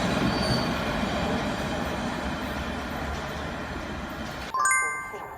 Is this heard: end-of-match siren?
no